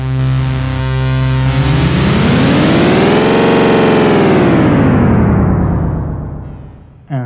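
Boss RE-202 Space Echo in its twist mode processing a synth, a loud sustained swell whose tone sweeps upward and back down over several seconds, dense and distorted with heavy echo, ending abruptly.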